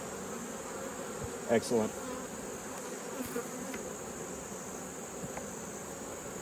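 Agitated honey bees at an opened hive hum in a steady, faint drone, with a few brief louder buzzes passing close by and someone speaking briefly.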